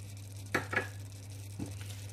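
Pork with coconut milk, shrimp paste and chillies is stirred in a pan over a faint, low sizzle, with three soft scraping strokes spaced apart.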